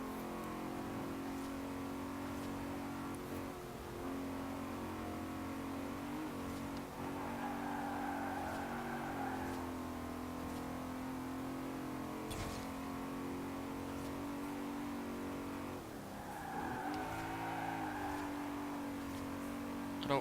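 A car engine in Forza Horizon 4 holds a steady drone that rises and falls with revving and gear changes, loud and continuous, with no voice.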